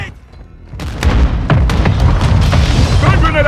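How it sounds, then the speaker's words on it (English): Mortar strike explosions in a Call of Duty-style shooter land as a dense run of loud booms and thuds, with sharp bursts and sporadic gunfire layered over a rumbling low end for several seconds. "Hostile mortar strike near your position."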